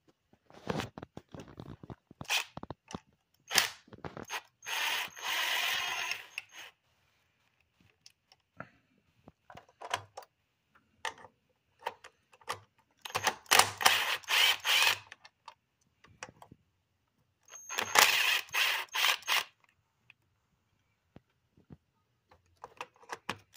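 Ratcheting and clicking of a 10mm socket wrench working bolts loose on a 2017 Kia Optima engine, coming in several close bursts with short metallic taps and pauses between them.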